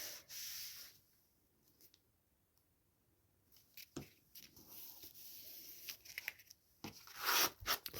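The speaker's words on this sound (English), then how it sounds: "Fold it down nice and tight." Paper being folded and creased tight for a winter envelope trifold booklet, with close scraping rubs and crinkles in bursts between quiet pauses, no talking.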